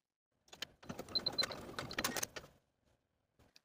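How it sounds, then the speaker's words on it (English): A sewing machine bastes a fabric loop in place for a pintuck dress, a short run of quiet mechanical clicking and whirring lasting about two seconds, followed by a few faint ticks. "Then we'll take that to the sewing machine and baste the loop in place."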